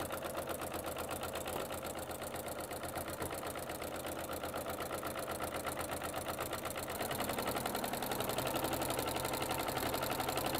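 A sewing machine runs steadily while stitching down the binding of a quilt, a fine rapid needle rhythm that grows a little louder and busier partway through, with no talking over it.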